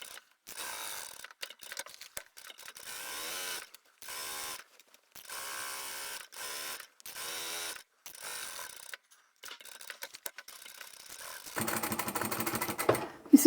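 A sewing machine stitches a large fabric bag, running in short whirring bursts separated by pauses as it back stitches, ending in a longer, rougher run with a faint voice near the close.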